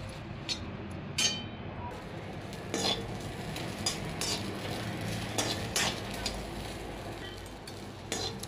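Okra frying in a pan while a utensil stirs it, with repeated scrapes and clinks of metal against the pan over a soft sizzle, close and moderately loud.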